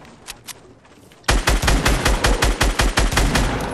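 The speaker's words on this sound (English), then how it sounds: "I'm firing rockets" Rockets and gunfire in Fortnite duos gameplay: a couple of faint shots, then a loud rapid volley of repeated blasts continuing to the end.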